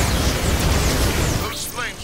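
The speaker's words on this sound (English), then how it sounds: "Oh, explosions!" Dense, roaring explosions from Transformers: Fall Of Cybertron rumble loud and continuous, then thin out and fade near the end.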